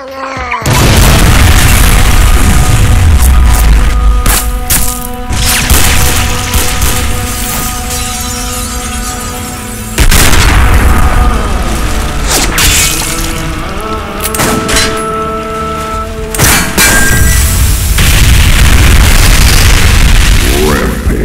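Booming explosions in a first-person shooter video game, heavy deep blasts that recur every few seconds over a continuous loud rumble and music-like tones, with no talk.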